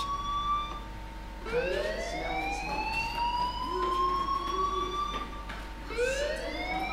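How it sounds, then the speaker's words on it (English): A wailing alarm siren from the video game Life is Strange sweeps upward in repeated loud, rising tones, each rise starting afresh, over a steady low background hum with no talking. "do you hear that fire alarm? That means you should be outside."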